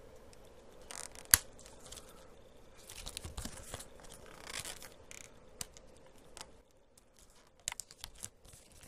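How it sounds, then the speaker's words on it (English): Plastic and cardboard packaging is peeled and torn open from a new Canon VIXIA HF R800 camcorder, scattered close crinkles, rips and a sharp snap, with quiet gaps between bursts. "I'm just gonna peel"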